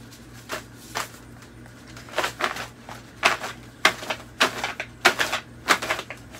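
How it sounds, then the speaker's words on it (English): Riffling and snapping of cards being shuffled, in repeated short bursts at a steady pace, close by. "And I'm shuffling up."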